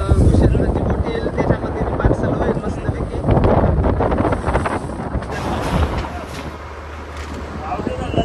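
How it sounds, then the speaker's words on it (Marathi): A fishing boat approaches on the open sea, its engine droning under heavy wind buffeting the microphone, with waves washing around it throughout. "चला बघा आता भूषणची बोट आली"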